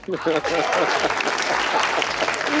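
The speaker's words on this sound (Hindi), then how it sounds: "ताली।" A television studio audience at an Eid special show claps continuously and loudly, with a voice speaking at the start and talk running under the applause.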